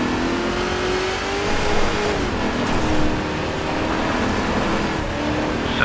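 Loud, close engine of an off-road racing vehicle in the video game Baja: Edge of Control, on a slippery stage, holding an uneven droning roar that swells and dips with revs across several seconds.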